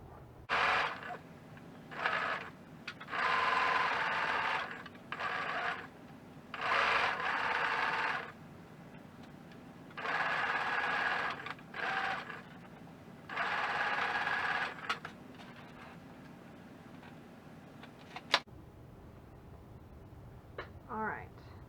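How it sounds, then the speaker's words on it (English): A sewing machine sews a quarter-inch seam on a patchwork bag in several bursts of steady whirring stitching, pausing briefly between runs, close and fairly loud, with no talking. "we're going to take this to the sewing machine and sew a 1/4 inch seam allowance along this edge"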